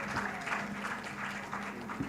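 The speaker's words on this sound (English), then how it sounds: "Better clap for him before he makes you disappear." Audience members at a club livestream event clap to welcome a magician, a faint, steady patter of applause with a soft low hum running underneath.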